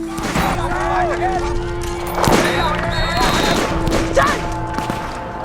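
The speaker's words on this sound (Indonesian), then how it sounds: "Dengan begitu, Drick langsung lari menghindar dari tembakan para pasukan Nazi." Loud World War II battle gunfire from Nazi troops, bursts of shots and blasts under a dense mix of shouting and tonal background sound, continuous throughout.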